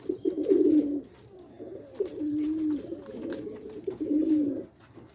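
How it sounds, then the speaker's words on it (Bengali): Racing pigeons coo in repeated low, throaty phrases close by after returning from a 10 km release near Dohar, Meghla, with short pauses between the bursts and no voices. "কবুতর তো 8টা ছাড়ছিলাম, কম পড়ছে কোনটা।"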